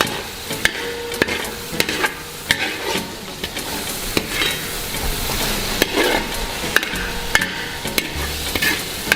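Kerala-style mackerel masala stir-fries in a pan, a steady close sizzle broken by frequent sharp scrapes and clicks of a spoon stirring through the thick spice paste, with no talk.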